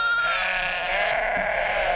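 A flock of Moroccan sheep bleats continuously and loudly at close range, several overlapping wavering cries forming a steady chorus for about two seconds with no talk.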